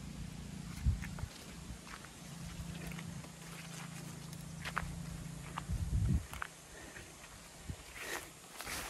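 Goats walking past on a farm, their hooves giving scattered soft thuds and clip-clop steps close by, with a low steady hum underneath and no talking.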